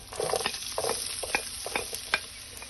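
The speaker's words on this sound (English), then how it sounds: "While these are sauteing" Onion, green chilies, dry red chilies and asafoetida sauté in a pan for poha, a steady sizzle broken by several sharp stirring scrapes and clinks, close and alone.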